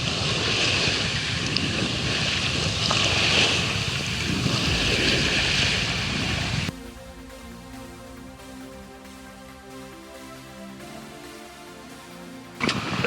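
A sailboat cuts through Pacific Ocean waves outside a harbor gate, with loud wind and surf rushing past for several seconds before the sound abruptly drops to a quieter, steady hum of the boat.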